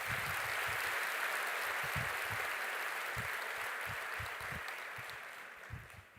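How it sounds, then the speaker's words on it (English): Sustained, dense applause from a large graduation ceremony audience for a symphonic wind ensemble, steady and loud before slowly tapering toward the end. "I think they deserve another round of applause, please."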